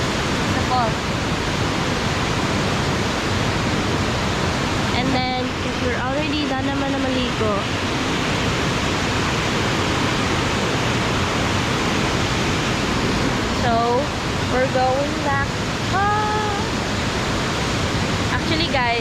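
Mantayupan Falls in Southern Cebu pours in a loud, unbroken broadband roar that fills the whole stretch, with people's voices cutting through briefly in the middle and again near the end.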